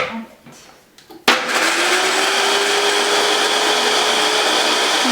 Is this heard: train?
no